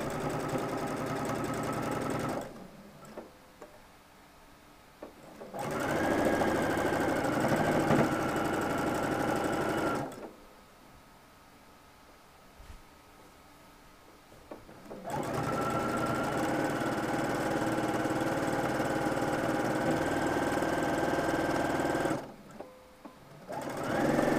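A sewing machine with a bi-level foot stitching down a fold on a shirt, running in long steady bursts of rapid whirring separated by quiet pauses, close and clear with no talking.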